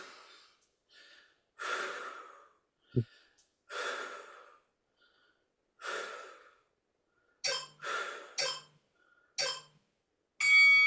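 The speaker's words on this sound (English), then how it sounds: "Keep breathing." Heavy, labored breaths come in separate bursts during a HIIT plank exercise, some long exhales and some quick, sharp ones, close to the microphone with silence between them.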